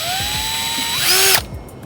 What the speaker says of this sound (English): This is a hole saw, and we're gonna use it to drill holes for the bird to get in.